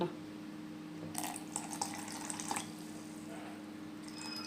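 Leftover tender coconut water is poured into a blender jar while making coconut juice, a soft splashing trickle that rises for a couple of seconds over steady low background hum, then fades to faint dribbles.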